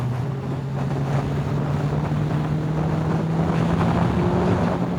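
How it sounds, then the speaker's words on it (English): Steady wind roar buffets the rider on a Suzuki Hayabusa motorcycle, a loud continuous rush with a low engine drone underneath, no talking. "Oh, she's windy, boys."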